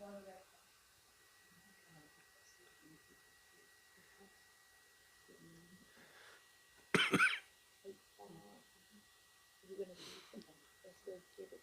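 A person coughs in a sharp, loud burst near the middle, with a few rougher throaty sounds later, against quiet background and occasional murmured speech.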